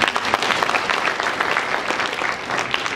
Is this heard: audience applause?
yes